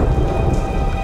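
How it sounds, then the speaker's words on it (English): Cartoon thunderstorm heard from inside a cave: steady, dense rain hiss with a low rumbling of thunder underneath, continuous and fairly loud throughout, with no voices. "Sounds more like a storm outside."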